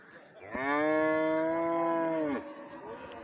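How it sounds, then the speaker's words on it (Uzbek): At the Payshanba livestock bazaar in Bakhmal district, Jizzakh, Uzbekistan, a cow close to calving lets out one loud, drawn-out moo lasting about two seconds, close by, with low market murmur before and after. "Mayda tug'adigan sigir ekan."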